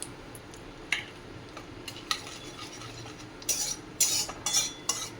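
A pan of whole garam masala and asafoetida frying in oil is stirred, a spoon scraping and clinking against the metal in several short bursts, faint and close, with a soft sizzle beneath and no talk.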